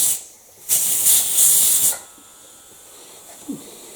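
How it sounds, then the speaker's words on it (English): Steam hisses loudly from a pressure cooker as its weight is lifted slightly, a harsh broadband rush lasting just over a second before cutting off to quiet, with a faint knock afterward. "It just shows how the steam does disappear."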